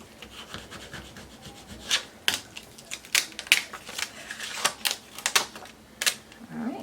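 A credit card is rubbed firmly over cardstock, giving repeated dry scraping strokes in an uneven rhythm, close and fairly loud.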